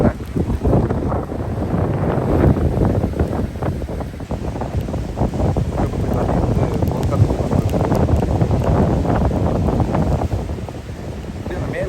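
Rough sea surf churns and roars, continuous and loud, with heavy wind buffeting the microphone throughout.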